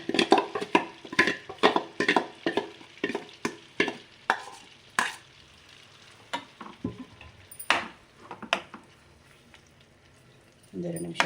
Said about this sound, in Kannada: ಒಂದೆರಡು ನಿಮಿಷ ಫ್ರೈ ಆಗಬೇಕಿದು.